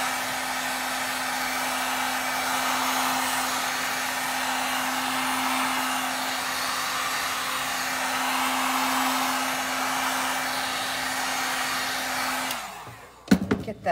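A heat gun blows steadily and loudly onto a mica-coated tumbler with a fireworks finish, holding a constant droning whoosh for about twelve seconds before it clicks off and a few faint knocks follow.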